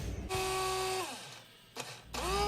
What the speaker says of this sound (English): I am going to grind them because they're like a little bit harder and I want them to be powdery.